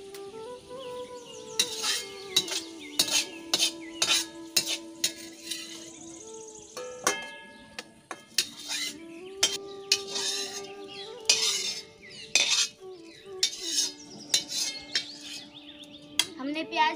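A metal spoon scrapes and clinks against a pan while lifting out fried onions, giving repeated sharp scraping and tapping strokes in an irregular rhythm over a steady background.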